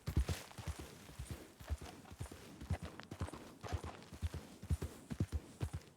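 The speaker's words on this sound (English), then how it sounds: "I thought I told the horse to stop already." Horse hooves clop in Red Dead Redemption 2, with a rhythmic run of sharp, close hoof strikes on the ground over six seconds that sounds more like a trot or walk than a full gallop.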